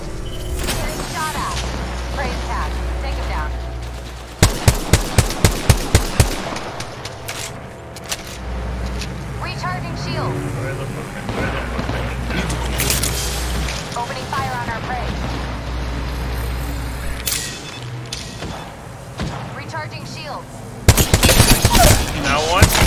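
Bursts of rapid automatic gunfire in Apex Legends, with sharp rhythmic volleys early on and again near the end over a constant droning background, plus scattered game sounds and voices in between.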